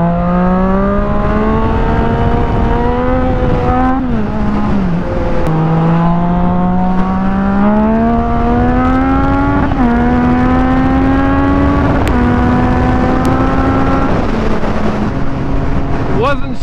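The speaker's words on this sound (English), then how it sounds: "I hit the rev limit every time, right to the point of it, but that's still a little too high" A car engine revs hard and repeatedly climbs toward the rev limit, with a pitch that rises and then drops at each gear shift. It is loud and close and runs continuously the whole time, with no talking over it.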